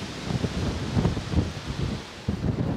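Gusty wind blows steadily outdoors beside an old building, buffeting the microphone with low rumbling roar and rustle for a few seconds, with no voices.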